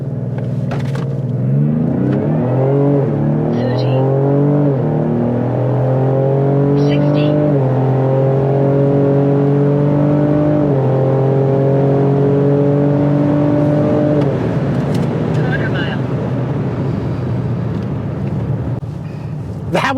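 A 2025 Ford Explorer ST in sport mode accelerates hard through several gears, its engine note climbing loudly and dropping at each shift, heard from inside the cabin with people talking.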